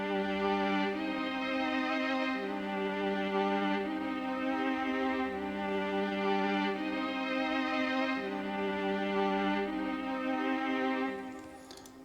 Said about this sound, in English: I used the Philharmonic 2 strings. I think it's the violin sustain